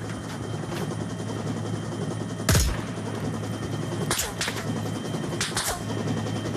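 Video game combat with gunfire bursts over a steady helicopter rotor drone; a loud shot near the middle, then further rapid bursts, all continuous with no talk.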